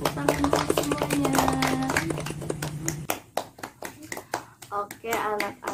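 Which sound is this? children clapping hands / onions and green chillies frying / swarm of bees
children clapping hands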